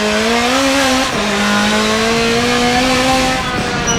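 Race car engine in Forza 7 holding a steady, loud tone that dips and climbs as the throttle is modulated, with a faint tire squeal, continuous for about four seconds and no talking.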